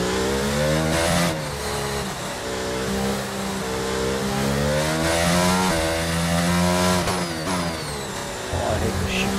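A video-game race car screams around a track, its engine revving up and down through gear changes, loud and close, while a player talks excitedly over it.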